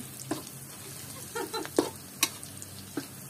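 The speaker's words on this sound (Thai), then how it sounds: "ผัดสี่ชั้นกระลำปีใส่หมู" Cabbage and pork belly stir-fried in a pan, with a soft steady sizzle and a few scraping stirs and clinks of a utensil, fairly quiet and without voices.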